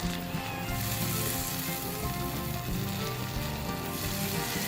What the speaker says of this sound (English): I'm going to cook this sauce for 1 minute,